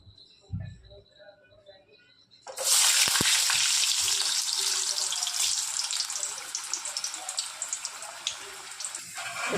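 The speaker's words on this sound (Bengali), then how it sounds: "বেগুনগুলো ভেজে নেব আগে" Eggplant pieces drop into hot oil in a pan on a lowered gas flame, setting off a sudden loud sizzle that stays strong and crackling after a few quiet seconds of faint kitchen sounds.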